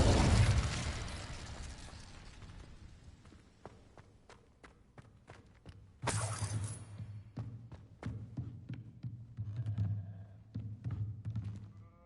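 Incendio fire spell cast in Hogwarts Legacy, a sudden loud fiery burst with a crackling whoosh that stays roaring for several seconds, preceded by a fading blast and scattered sparkling ticks.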